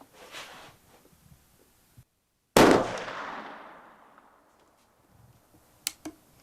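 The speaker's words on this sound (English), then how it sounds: "You may shoot when you're ready." A rifle shot fired on a 100-yard outdoor range, one loud sharp crack with a long fading echo, followed later by a couple of faint distant pops.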